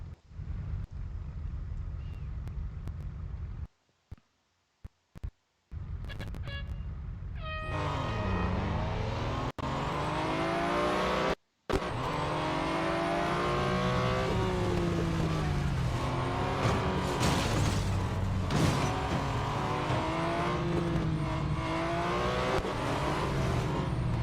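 A Porsche 911 GT1 racing on a short test track in a video game, its engine loud and close, rising and falling in pitch through repeated gear shifts, briefly cut out twice early on.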